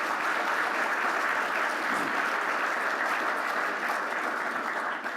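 Steady applause from a large crowd, dense and sustained throughout with no pauses.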